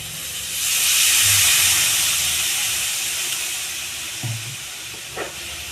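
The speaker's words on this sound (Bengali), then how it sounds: "এবার আমি পরিমাণ মতো জল দেব।" Water poured into a hot pan of cauliflower and potatoes sets off a loud steamy hiss that surges and then slowly dies down, with a couple of small clinks near the end.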